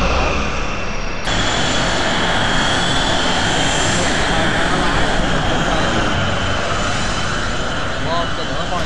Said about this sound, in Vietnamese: tức là mấy bàng phản lực hạng nặng của Đức á